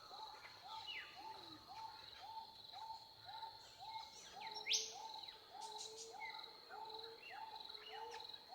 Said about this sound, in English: as the bird song continues.